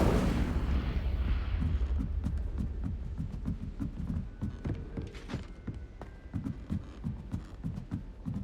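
A fire spell is cast in the Hogwarts Legacy video game: a loud roaring burst opens, then a steady run of deep, rhythmic thumps continues at an even pace, with no talking.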